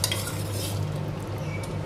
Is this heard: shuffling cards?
no